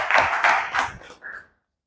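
A classroom audience gives a classmate a short round of clapping. A few loose bursts of hand claps come close together, then thin out and stop after about a second and a half, leaving silence.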